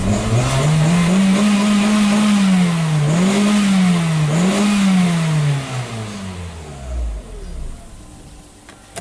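A 2006 Hyundai Tucson engine with a power-loss fault revs up under pedal and holds high, dipping and surging twice before dropping back to idle; loud and close.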